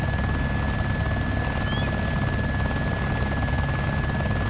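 Steady video-game helicopter rotor drone, loud and continuous throughout with a deep low-end thrum and a faint high whine, no voices.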